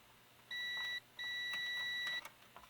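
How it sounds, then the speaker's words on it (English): Two bright steady electronic beeps from a multimeter continuity tester checking a Universal waffle iron Model 15 UG 17, a short one followed by a longer one, clear and close over a quiet background. "you'll be able to hear the tone even though you might not see the meter"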